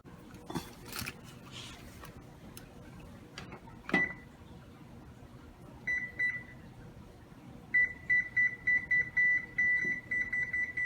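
An oven timer is set with a few clicks and handling noises, then short electronic beeps sound in a quick repeating run, close and moderately loud, with no talking.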